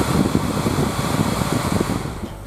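A factory Spal car cooling fan runs steadily, giving a constant airy whir and low hum at moderate level, easing slightly toward the end, with no voices.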